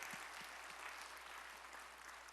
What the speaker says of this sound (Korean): 우리 찬양을 받으실 주님께 영광의 박수 올리겠습니다